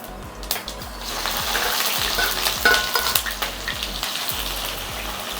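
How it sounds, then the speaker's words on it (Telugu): Mustard seeds and onion frying in hot oil in a pan for masoor dal and potato fry, a close, steady sizzle with busy crackling and stirring scrapes, no one speaking. "ఇప్పుడు ఫస్ట్ టైం ఏం చేయాలంటే ఆవాలు వేయాలి."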